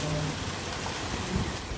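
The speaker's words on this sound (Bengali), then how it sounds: "আজকে দুপুর ৩টার দিকে অনেক বেশি কালবৈশাখী ঝড় হয়েছে" Pouring rain in a Kalbaishakhi thunderstorm roars steadily and close, a thick, unbroken downpour with no speech over it.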